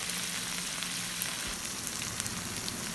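Chicken roasting in a pan for a chicken roast, a steady close crackling sizzle with scattered sharp pops and no voices.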